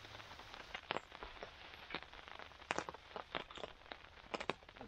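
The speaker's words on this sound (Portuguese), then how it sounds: "Hoje é chuva e chuva mesmo o dia inteiro." Heavy rain falls on a wild campsite, with a dense steady patter and scattered sharp drops hitting nearby surfaces at low volume.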